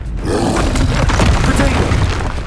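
A blasting fire spell explodes in the Hogwarts Legacy game, a dense rumbling burst with crackle and debris sustained loudly throughout, layered over battle noise and shouted voices.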